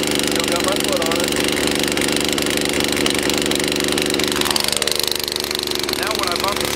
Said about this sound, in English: Okay, now I'm going to let the saw run a little bit and warm up.